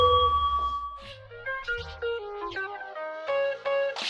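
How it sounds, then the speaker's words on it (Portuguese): A sales bell effect rings out in a bright sequence of chiming, ding-dong tones, playing as a short, clear melodic run with quiet gaps and no speech. "Toca o Sino aí, Dudu!"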